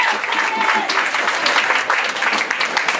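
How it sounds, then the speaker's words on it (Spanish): Loud audience applause fills the room at a Spanish-language community event, a dense, steady wash of clapping that holds evenly for about three seconds with no voices standing out. "El aplauso fuerte para Pavel Vicente Alonso."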